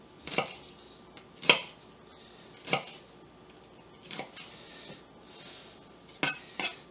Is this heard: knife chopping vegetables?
yes